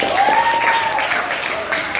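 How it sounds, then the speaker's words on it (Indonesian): Classroom applause for a student during an arts and culture lesson, a brief burst of clapping heard close and loud, with a voice's tone sliding briefly over the top. "Tepuk tangan untuk Nadir."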